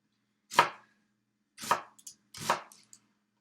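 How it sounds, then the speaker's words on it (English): Red onion cut with a knife on a board, three crisp chopping strokes spaced apart, close and clear in a quiet room. "Probably gonna cut that"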